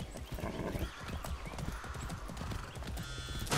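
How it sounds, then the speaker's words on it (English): Fast, steady hoofbeats of a galloping horse thunder up close over a dense rumbling background, with a whinny near the end; video game horse in Far Cry 6. "I could run with the horse."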